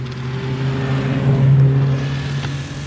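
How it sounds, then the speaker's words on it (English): A snow groomer passes nearby on a trail, its steady, loud, droning engine rumble holding throughout with a slight swell in the middle. "all of a sudden, look, the groomer showed up"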